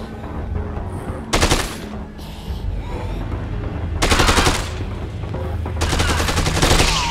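Zombie-shooting video game gunfire: loud, rapid automatic bursts arrive in three distinct volleys, each a dense rattle of shots over a steady background rumble, with short gaps between them.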